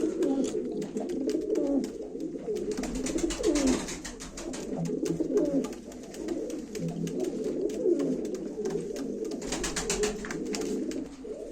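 Pigeons coo steadily and continuously at a live pigeon auction, a dense, overlapping chorus of soft rolling calls close by, with no talking.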